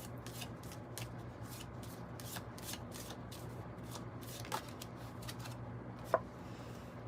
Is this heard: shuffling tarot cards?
yes